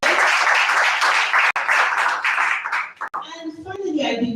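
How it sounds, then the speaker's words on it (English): Audience applause at a climate hackathon launch event in Lagos, a brief burst of loud clapping lasting about three seconds before a voice starts speaking. "One round of applause."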